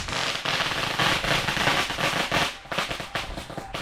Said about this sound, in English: there's fireworks going on in the background